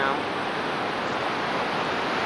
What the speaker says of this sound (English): Right now, coming over the top, we got the gate wide open, normally closed. You can see how the water is coming down.